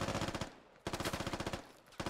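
An MG3 machine gun in a military shooter game fires three rapid, loud bursts of evenly spaced shots, each burst about three quarters of a second long with brief gaps between, close up with no voices.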